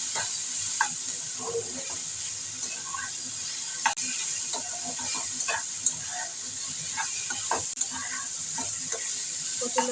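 Taro stolons and shrimp fry in a pan with salt and turmeric, giving a steady close hiss of sizzling broken by scattered clicks and scrapes of stirring, with no voices.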